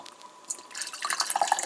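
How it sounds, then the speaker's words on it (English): Grapefruit soft drink poured into a cup, starting as a faint trickle and building into a steady, close splashing and dripping stream that runs to the end. "grapefruit drink and you pour it into this cup"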